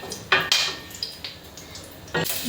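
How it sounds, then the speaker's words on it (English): Whole bay leaf, cinnamon, cardamom, clove and black pepper sauté in a pan, heard as a few sharp utensil clinks and scrapes against the metal over a faint frying hiss, close and fairly quiet. "Add bay leaf, cinnamon, cardamom, clove and black pepper and saute well."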